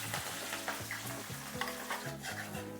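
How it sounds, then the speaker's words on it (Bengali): Garlic, ginger and dried and green chilies frying in hot oil for a Bengali chilli chicken, a steady close sizzle with a few scrapes of stirring and no voices. "রসুন কুচি, আদা আর শুকনো লঙ্কা, কাঁচা লঙ্কা আমি একটু ভেজে নিয়েছি"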